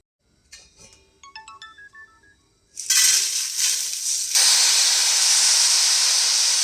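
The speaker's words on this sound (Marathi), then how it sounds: "आता आहे ना आपण तांदूळ आहे ना सारखं परतवत राहूया" Rice is dry-roasted in a metal pot for sweet rice laddoos, first with a few light tonal beeps and scrapes, then a sudden loud steady hiss of roasting and stirring that continues to the end.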